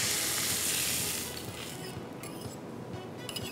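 A red velvet cheese omelette cooks in a pan without oil over slow heat, giving a soft steady sizzle and hiss that eases after the first second, with a few faint clinks near the end.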